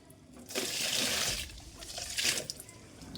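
Liquid fertilizer water poured onto rooftop garden plants, a soft splashing trickle in two bursts, the second a little stronger, heard close and fairly quiet.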